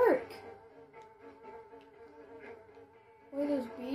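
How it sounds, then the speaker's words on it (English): Insect-like buzzing of bees in the video game Ninjabread Man, a steady droning hum with louder bursts at the start and end, moderately close and alone. "Where are those bees coming from?"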